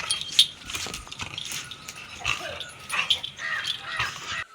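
A dog in a hill village yips and whimpers in short bursts, moderately close, amid rustling outdoor background noise.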